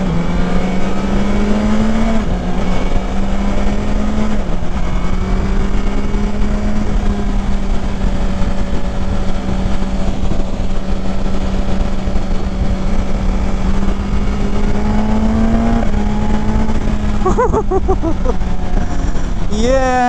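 A 2021 BMW S 1000 XR motorcycle on a Southern California test ride, its engine droning loud and steady with rising and falling revs as it accelerates, wind rushing throughout and a quick run up through the revs near the end.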